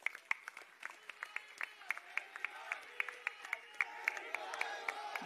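Crowd at a political rally clapping, with sharp loud individual claps standing out over a steady spread of applause, building slightly toward the end, heard from a short distance.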